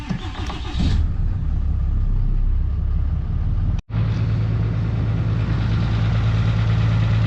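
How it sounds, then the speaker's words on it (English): Cummins diesel pickup truck engine cranking briefly, then catching into a loud, close, steady low rumbling idle after a short pause, with no talking. "Now we can start the truck."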